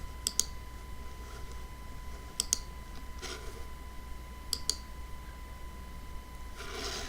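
A computer mouse clicking at a desk, three quick pairs of sharp clicks spaced about two seconds apart over a quiet background hum, with a soft rustle near the end.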